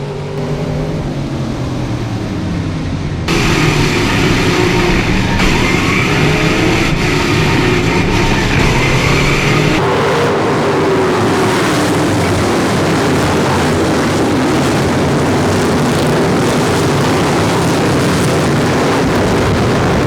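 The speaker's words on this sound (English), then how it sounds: "figure eight racing starts now" Race cars start a figure eight race, several engines roaring loudly together into a dense, sustained mechanical din after a quieter opening.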